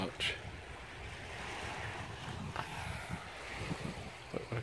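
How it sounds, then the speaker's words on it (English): Gentle sea waves washing onto the shore below Criccieth Castle in Wales on a calm, flat sea, a soft steady wash with some wind noise on the microphone. "And some waves coming in."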